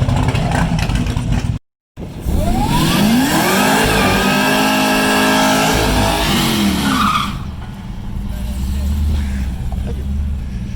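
A car with a stock supercharger, ported just the day before, makes a drag strip run: the engine roars loudly and climbs through its gears with tire noise, then fades away into distant crowd noise.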